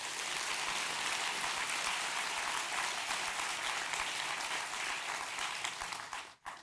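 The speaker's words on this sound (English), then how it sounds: "So a round of applause for that" A luncheon audience at a depression center event applauds steadily, a dense wash of clapping that holds for about six seconds before tapering off abruptly.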